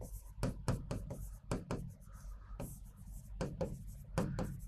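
Chalk taps and scratches on a board during a lecture, a quick irregular run of close, crisp strokes with short pauses between words being written.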